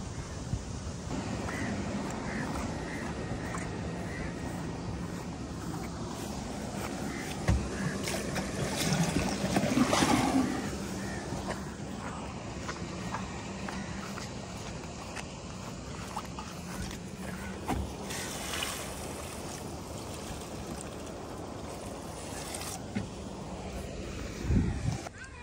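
Irrigation water pours steadily onto the last acre of a Punjab farm field, a continuous close rushing and lapping flow with occasional knocks and a faint voice in the background.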